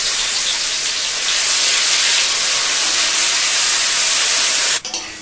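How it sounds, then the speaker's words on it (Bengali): Onions frying in oil with duck meat in a pot, giving a loud, steady, close sizzling hiss that swells slightly midway, then breaks off with a brief clatter near the end. "পেঁয়াজটা দেখো প্রায় ভাজা হয়ে গেছে"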